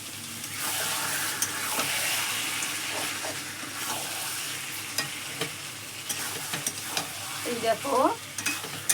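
Water hits meat cooking in a pan on the stove and sets off loud, steady sizzling and bubbling, then spoon stirring and scraping against the pan. A voice speaks briefly near the end.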